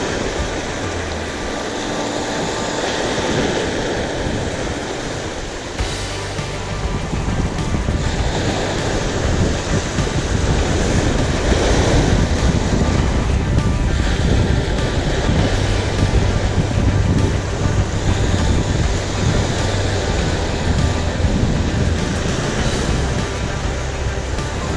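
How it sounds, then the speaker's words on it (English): Steady wind buffets the microphone on an open beach at San Luis Pass, a continuous loud rush mixed with the wash of surf and no clear pauses. "The wind is blowing at about 10 miles today."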